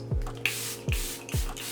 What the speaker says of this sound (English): We're gonna mist my face.